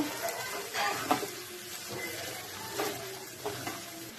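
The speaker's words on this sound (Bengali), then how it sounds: "আমি টমেটো টমেটোগুলো দিয়ে দিলাম দিয়ে ভালো করে মিশিয়ে নেব" Chopped tomatoes are stirred into a ginger and green chili paste in a frying pan, producing a low sizzle with several scraping strokes of a spatula, fairly quiet and without talking.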